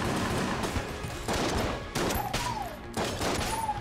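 Rapid machine-gun fire from the video game Enter The Gungeon crackles in dense continuous bursts, broken by short pauses and layered with electronic whooshing game effects.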